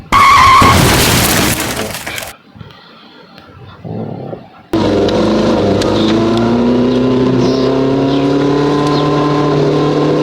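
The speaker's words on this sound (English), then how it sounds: "Let's see what happens when the monster trucks meets an accident" A monster truck slams into a van in a realistic car-damage video game: a loud crashing, skidding burst is followed by a brief lull, then a steady engine drone runs on alone.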